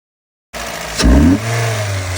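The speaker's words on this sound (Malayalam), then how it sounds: "നമുക്ക് ഇതിൻ്റെ എക്സോസ്റ്റ് നോട്ടും കൂടി എങ്ങനെ ഉണ്ടെന്ന് നോക്കാം." Honda Jazz with a BMC DIA cold air intake, Zeroforce full exhaust and Wolf stage 2 map revs sharply from idle, a loud close blip that settles into a steady deep exhaust drone.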